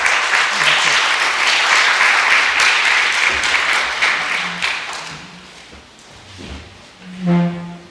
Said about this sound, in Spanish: Simplemente podemos dar un aplauso de bienvenida al profesor